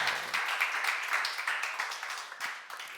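Church seminar audience clapping together, a dense continuous burst of applause lasting a few seconds, loud and close, with no speech over it.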